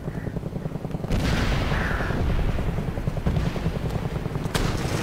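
Sustained gunfire in the military shooter game Operation Flashpoint: Red River, a dense, loud barrage of rapid shots and booms filling most of the clip after a short quieter lead-in, with no talk.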